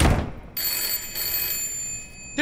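A telephone rings in the horror video game Layers of Fear, a bright electronic bell trill that starts after a brief soft noise and sustains steadily, ringing alone with no talk.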